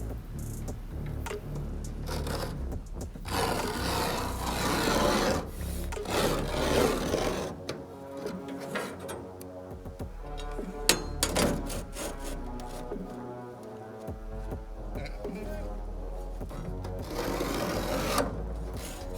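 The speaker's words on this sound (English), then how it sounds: "Get my line and I score it 3 times." A natural stone board for an electric fireplace is scored three times along a line with a blade, giving repeated scraping rasps of varying strength, and then snapped like drywall.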